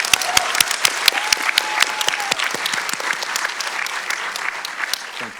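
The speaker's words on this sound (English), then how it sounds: "Let's give them another round of applause here." A crowd applauds loudly and steadily at a community leadership awards ceremony, with a few sharp, distinct claps standing out as the clapping gradually tapers off.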